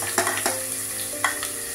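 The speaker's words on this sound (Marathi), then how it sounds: "मीडियम फ्लेमवरच आपण हा कांदा भाजून घेऊया" Sliced onion sizzles in hot oil in a pan over a medium flame, a steady soft frying hiss broken by a few brief stirring scrapes, close and moderately quiet with no talking.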